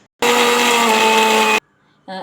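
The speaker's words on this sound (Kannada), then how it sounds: "ಮತ್ತೆ ಮಿಕ್ಸಿಗೆ ಹಾಕ್ಕೊಳ್ಳಿ, ಮತ್ತೆ ಗ್ರೈಂಡ್ ಮಾಡಿ." A kitchen mixer grinder blending coconut chutney with coriander runs at a loud, steady whine for over a second. It cuts off abruptly and a voice follows.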